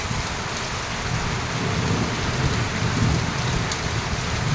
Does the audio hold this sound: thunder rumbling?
yes